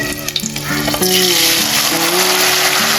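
Paneer pieces drop into hot oil and sizzle loudly and steadily, a bright crackling fry with a few stirring knocks at the start and musical tones underneath.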